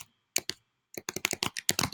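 Quick bursts of typing on a computer keyboard, a pair of clicks followed by a pause and then a rapid run of keystrokes, close and fairly crisp with no talking.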